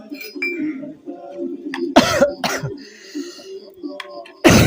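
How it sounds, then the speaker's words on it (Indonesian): Several harsh coughs from a man working on a scooter engine, two close bursts in the middle and another at the end, over a low hum and faint clinking. "Ini aku agak batuk"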